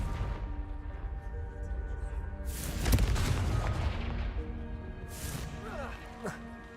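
Confringo blasting spells burst in a video game with a booming crash, followed by a second blast a few seconds later, both rising over a steady hum of background game sound and speech.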